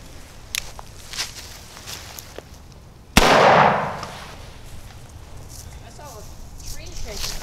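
One sharp, loud gunshot from an Uberti Colt 45 revolver fired outdoors, followed by a rumbling echo that decays over about a second. Shuffling and faint rustling come before it, and people talk nearby.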